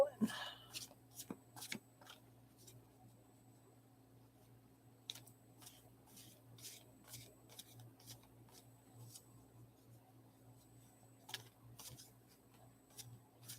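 Two decks of tarot cards shuffled together by hand at a reading table: soft, close riffling and flicking with scattered sharp ticks and pauses, quiet throughout over a low steady hum.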